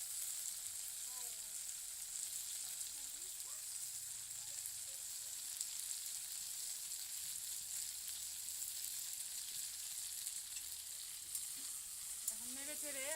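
Small fish with taro stolons, lemon juice added, sizzle and fry in a pan as they are stirred, a constant soft crackling hiss with faint scrapes throughout.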